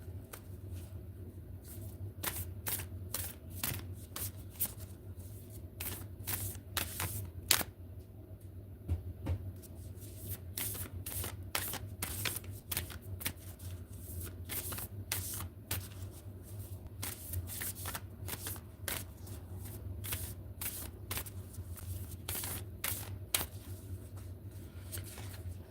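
A deck of oracle cards is shuffled by hand for a reading. Quick, soft card flicks and slaps repeat steadily close by over a low constant hum, and nobody speaks.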